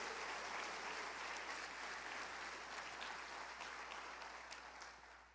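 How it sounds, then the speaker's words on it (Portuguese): A church congregation claps for the Lord during a sermon, a steady wash of applause filling the room, fairly faint and continuous, tapering off near the end. "Se você crê, aplauda ao Senhor."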